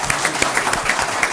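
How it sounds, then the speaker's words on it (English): Scattered applause at a school district governing board meeting, honoring a student bound for high school. The clapping comes as a light, fairly quiet patter from a small group in a room. "Let's give Slater a round of applause"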